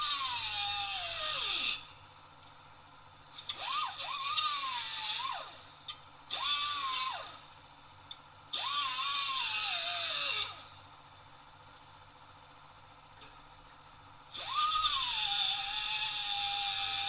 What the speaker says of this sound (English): just use the die grinder